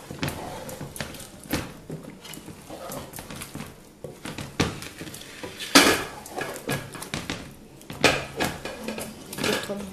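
Carrots are added to a cooking pot with a clatter of metal pots and utensils, giving irregular knocks, scrapes and clinks, close and fairly loud.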